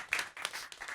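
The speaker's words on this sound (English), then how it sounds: "One clapping, person applauding." One person claps a few times at a conference, a short run of sharp, close handclaps spaced unevenly over about a second.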